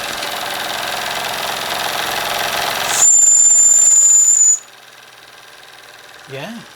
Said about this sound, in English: See if the whistle works.